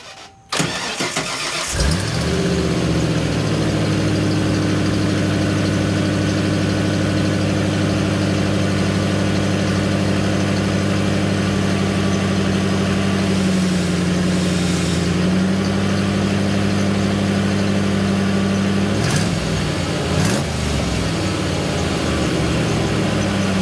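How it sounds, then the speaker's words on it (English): A car engine turns over and settles into a steady, loud idle through the stock exhaust before long tube headers are fitted, close to the microphone, with a brief dip near the end, alone without talk. "Okay, so you guys heard the exhaust."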